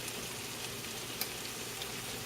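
Steady, soft sizzling of venison frying in a pan with plenty of juice, a continuous crackly hiss with faint pops, fairly quiet and without voices.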